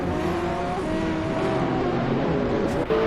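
GTR and GT4 race cars at Laguna Seca in a racing video game, engines screaming continuously at high revs with tonal whine and gear shifts, close and loud.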